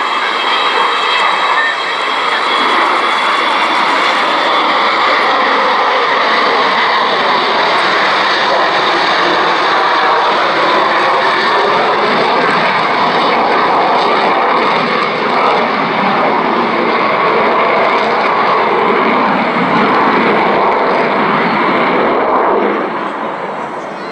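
Avro Vulcan XH558 delta-wing bomber flying at a seaside air show, a loud continuous jet roar with a rasping, howling upper edge that stays strong and close throughout.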